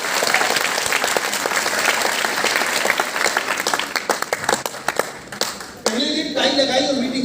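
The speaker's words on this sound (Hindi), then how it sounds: "एक बार अपने लिए जोरदार तालियां" Seminar audience bursts into loud, dense applause that thins into scattered claps before a voice starts talking near the end.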